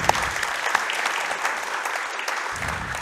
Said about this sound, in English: A big round of applause for John Worsfold.